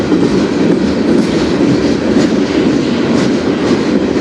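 A CN freight train passes loudly and steadily on the Strathroy Subdivision, its wagons producing a continuous heavy rumble with faint clickety-clack from the wheels.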